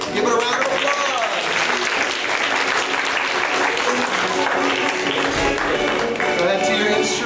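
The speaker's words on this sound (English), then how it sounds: "Let's give it a round of applause." A concert audience applauds as young composers are welcomed to a music night, a loud, dense, sustained wash of many hands clapping steadily throughout, with voices mixed in the crowd.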